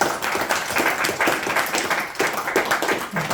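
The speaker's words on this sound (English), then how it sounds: "please give a round of applause" A small group gives a round of applause during a Bhagavad Gita class, hand claps coming in uneven bursts and swells, fairly close and lively, without talk over them.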